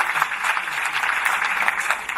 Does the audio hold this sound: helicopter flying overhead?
no